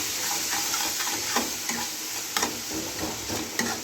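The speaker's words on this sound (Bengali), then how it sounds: "দিয়ে ভালো করে মশলাটা কষে নেব" Masala paste with ground cumin and a splash of water sizzles and fries in a pan for Bengali katla fish kalia, a steady close hiss broken by the clink and scrape of stirring.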